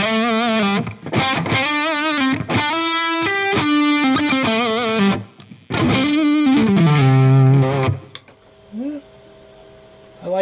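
An electric guitar runs through a distorted preamp, with mids kept full rather than scooped, for a metal tone. It plays loud, fast, saturated riffs and sustained notes, then the sound drops away to quiet, sparse ringing at the end.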